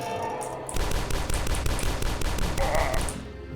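Rapid pistol fire from the retro first-person shooter DUSK, a dense string of sharp shots close and loud for about three seconds after a brief quieter lead-in, with no voices.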